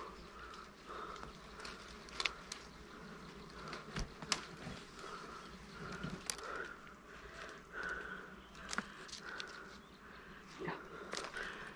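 Dwarf honeybee colony buzzing steadily around its nest during a honey-hunting nest removal, a close, continuous drone broken by brief sharp knocks and handling noises.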